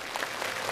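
Audience applause at a CCTV televised gala show, greeting a guest coming onstage: a short, steady burst of dense clapping that fills the hall at an even level, with no voices over it.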